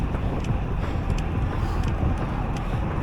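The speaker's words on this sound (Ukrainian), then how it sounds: "Але трошки є зустрічний вітер." Strong headwind buffets the microphone while riding a carbon bicycle on an open road, a steady low roar of wind noise filling the whole stretch without a break.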